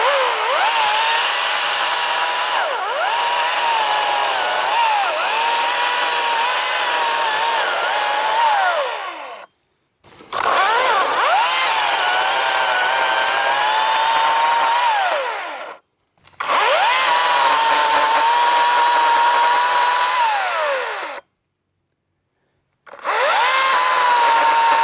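Atlas 80v or 40v battery chainsaw cutting a tree, a loud, close, high whine that rises and dips with load, broken by three brief silent pauses between long cutting stretches.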